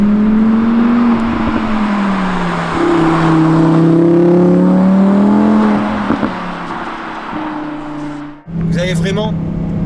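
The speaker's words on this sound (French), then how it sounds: "l'essence du moteur atmosphérique qui est là. C'est un instrument de musique." An Audi R8 V10 Performance's naturally aspirated engine climbs through the revs with rising, gear-stepped tones, loud and close from inside the car, then cuts briefly before pulling hard again; someone talks over it.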